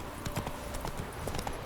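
Horse hooves clip-clop in a steady walking rhythm in The Witcher video game, heard close over a soft ambient game background.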